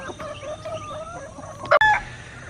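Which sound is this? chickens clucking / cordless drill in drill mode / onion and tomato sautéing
chickens clucking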